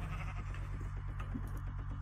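Sheep bleating in the Minecraft video game, a steady run of repeated bleats over a constant game background hum, fairly loud and continuous.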